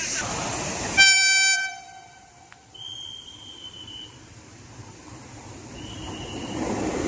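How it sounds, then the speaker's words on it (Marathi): A train horn blares loudly in a long chord, then fades into a steady rumble of rail traffic, with a high whistle-like tone sounding twice later. "ट्रेन आलेलं आहे."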